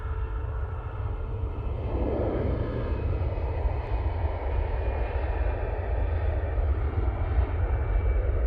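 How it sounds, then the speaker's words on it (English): An Airbus A320-200 jet departing Manchester Airport for Geneva, a steady, loud engine roar and broad rumble that holds throughout, heard from the ground with no talking. "This one's going off to Geneva using their A320-200 for this flight"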